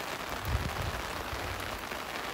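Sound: heavy rain on a mountain

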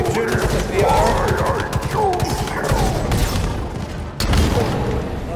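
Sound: gunfire in Halo Infinite video game boss fight

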